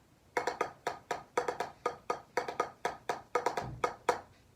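A paradiddle with added double strokes: crisp drum strokes in quick groupings, with pairs of rapid double hits tucked among single taps, played close and alone for a few seconds.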